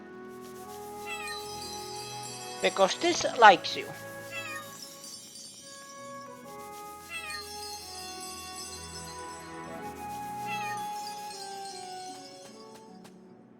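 A cat meows in the Chained Echoes video game, a burst of several quick cries in the middle standing out over music, with a voice speaking briefly.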